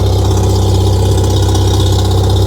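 An MGB engine idles with its exhaust deleted, a loud, steady, close-up rumble that stays even throughout with no talking.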